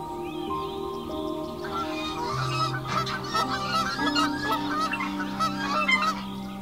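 Migrating geese over wild Norwegian country honk together in a steady overlapping chorus of nasal calls, with no other sound breaking through.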